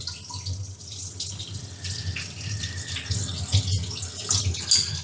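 Water sprays steadily from a glass rinser on a piano-type kitchen sink, a continuous hiss and splash with small shifts in intensity throughout, close and fairly loud.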